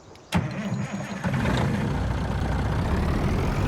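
A truck engine in a farming video game cranks with a sharp click, catches, and settles into a loud, steady idle rumble that continues to the end.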